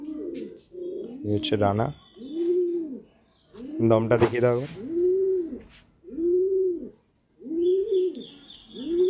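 Pigeons coo in repeated rounded phrases close by, with someone talking in between the calls.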